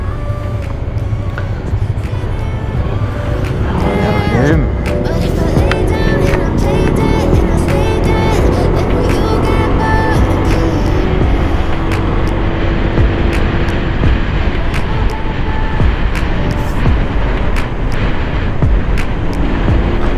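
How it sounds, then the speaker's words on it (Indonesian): Motorcycle engine revving on a Sunday group ride toward Malalak, loud and continuous throughout with rising and falling engine tones under steady road and wind noise. "Baru aja jalan udah digas ya gitu."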